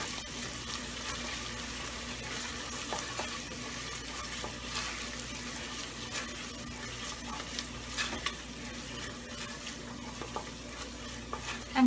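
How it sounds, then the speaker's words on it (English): Sev usal mixture with garlic and red chili paste being stirred together in a cooking pot, a steady low scraping and faint sizzle running continuously with small clinks, no talking. "So now I'm going to mix it everything together."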